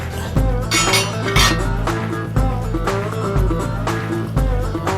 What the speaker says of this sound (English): So let's go ahead and take this lid and see what we got going here.